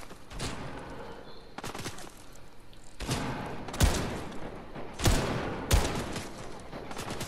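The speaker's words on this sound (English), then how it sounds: "Those are real people shooting at the fucking things." Gunfire in the video game Fortnite as players shoot at targets: repeated bursts and single heavy shots at irregular intervals, moderately distant and fairly quiet, with no talking over it.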